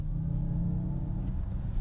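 A 2024 Genesis GV60 electric SUV plays its synthetic engine sound, a steady low droning rumble that holds evenly and fairly loud for about two seconds, with no talking.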